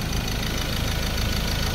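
Ford Ranger 2.2 diesel engine with a low-power fault idling steadily, a continuous close rumble with a fine knocking texture throughout and no talk.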